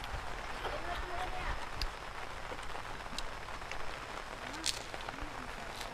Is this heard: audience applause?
no